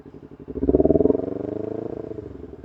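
A Kawasaki Ninja 250 motorcycle engine idles, then gets a short, light rev that swells into a buzzing growl and eases back to a throbbing idle, heard up close.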